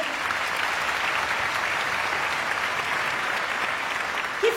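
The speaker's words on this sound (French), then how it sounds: "Vous pouvez l'applaudir." Steady, dense applause from a concert audience for a violinist, loud and continuous throughout with no speech over it.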